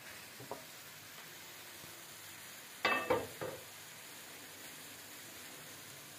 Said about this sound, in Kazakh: Piyazımızды осындай етіп жұмсақ қылып қуырып алуымыз керек